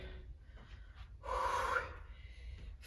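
Heavy breathing after an intense bodyweight workout, with a sharp gasping inhale in the middle over quiet background noise and no speech.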